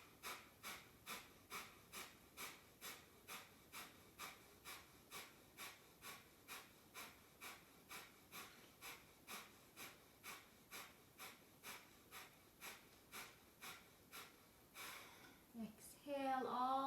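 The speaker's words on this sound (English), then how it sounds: "inhale halfway and pump your breath 33 times through the nose" Rapid forceful breaths pumped through the nose in yoga breath-of-fire practice, a steady, evenly spaced series of about thirty short huffs, faint and close, ending in a longer exhale and a brief voice.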